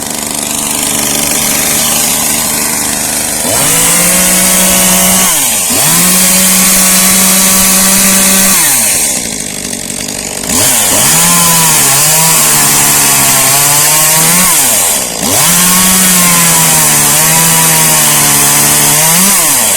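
A chainsaw pulls over and roars to life, revving up and down in loud surges with brief drops between bursts, running close by throughout.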